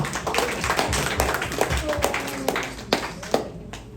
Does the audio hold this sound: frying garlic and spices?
no